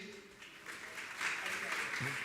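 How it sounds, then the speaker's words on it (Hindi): Audience clapping at a religious discourse session, a moderate wash of applause that swells partway through, with voices speaking over it. "एक बार जोरदार ताली बजाते हुए"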